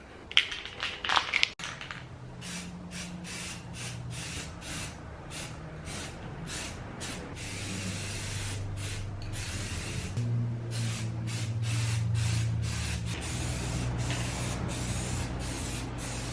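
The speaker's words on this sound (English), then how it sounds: "I'll be using spray paint black" An aerosol can of black spray paint hisses in repeated bursts, short and long, close by, painting Nissan 350Z bumpers, with a rattle and clicks at the start and no talking.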